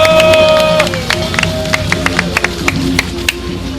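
Applause at an outdoor rally of small business owners in Yeouido: scattered claps from a crowd sound over a sustained background tone and crowd murmur, moderately loud, tapering slightly after a few seconds.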